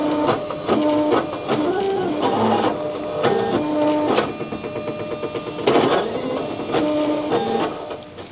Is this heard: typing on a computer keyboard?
no